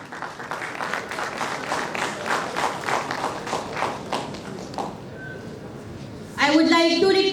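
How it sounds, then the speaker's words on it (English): Audience applause at a pharmaceutical conference as a guest is called onto the stage. Brisk, fairly close clapping runs for about five seconds, then fades, and a voice speaks at the end. "A very big round of applause, everyone."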